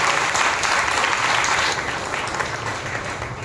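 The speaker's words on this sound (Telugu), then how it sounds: "ప్రభువుకు బిగ్గరగా చప్పట్లు కొట్టి స్తోత్రం బిగ్గరగా." A church congregation at a Sunday worship service claps loudly together, a dense, steady burst of applause that fades slightly toward the end, with no voices over it.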